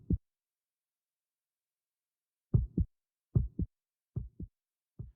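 Low-health heartbeat sounds from a Unity 3D Kit game demo give a lone thump, then a pause, then four spaced lub-dub double beats, heard alone against silence.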